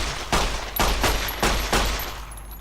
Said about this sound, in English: Let's aim for his head and shoot